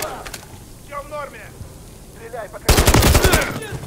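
Machine gun fire in Call of Duty Modern Warfare 3 breaks out loud and close as a rapid burst near the end, after a stretch of softer background game noise with voices speaking.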